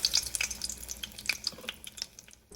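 Water drips off hands over a pot of oil while making falafel, a series of faint scattered splashes and crackles over quiet kitchen background.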